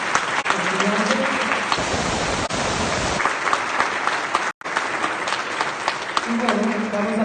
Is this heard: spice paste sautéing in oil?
no